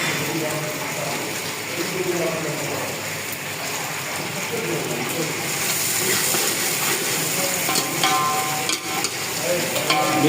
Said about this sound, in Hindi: 1 पाव तेल मैंने डाल दिया इसमें प्याज,